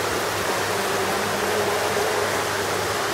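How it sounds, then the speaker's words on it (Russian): A small artificial waterfall inside a zoo monkey house gives off a steady, even rush of splashing water, close and constant without a break. "тут водопадик."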